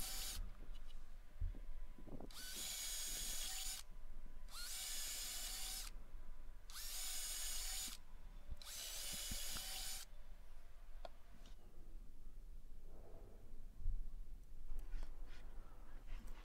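A power drill bores drainage holes into the bottom of a wooden open-fronted robin nesting box, giving four loud, close bursts of whining drilling with short pauses between them and quiet afterward.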